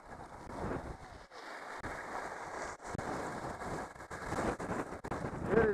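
Strong wind gusting across a ski mountain summit at -36 degrees, buffeting the microphone in steady roaring bursts with brief lulls, and no talking.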